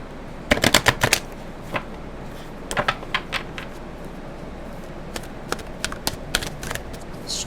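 Oracle cards being shuffled by hand during a tarot reading, heard as bursts of quick crisp riffling snaps, a dense cluster early, then scattered shorter flurries, close and fairly clear with no talking.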